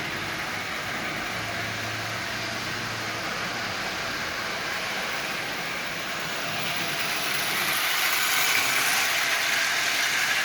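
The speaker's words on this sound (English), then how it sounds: "I wanted to try one of these 6-volt locomotives, so I bought one. As you see, it actually runs really, really well." A Marx 6-volt toy electric locomotive with a replacement can motor, run on 12 volts, whirs steadily with a faint rattling, clicking mechanical texture, growing slightly louder and brighter toward the end.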